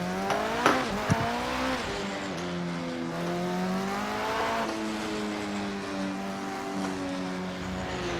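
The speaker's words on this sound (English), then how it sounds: "driving the 919 Hybrid LMP1 car at the Nurbugring" A Porsche 919 Hybrid LMP1 race car drives at the Nürburgring, its engine whining in a high, continuous note that rises and falls through gear changes and speed shifts. Brief knocks sound early, and there is no talk.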